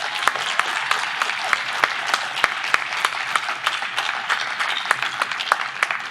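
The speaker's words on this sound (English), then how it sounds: "So give yourself a round of applause." Commencement audience applauding at a law school graduation ceremony, with a broad wash of clapping and several sharp individual claps standing out near the microphone, sustained at an even level.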